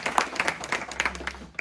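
An audience at a religious association's office gathering claps for the organizer in a short, uneven burst of applause lasting under two seconds, with a faint voice underneath.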